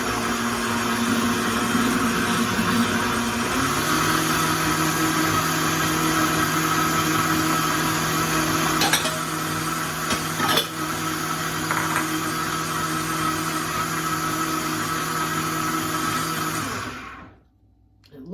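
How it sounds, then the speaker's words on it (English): A Vitamix blender purees cooked yellow squash soup, a steady loud motor whir running for about seventeen seconds before cutting off abruptly near the end. "Put it in the blender, and we will have delicious soup."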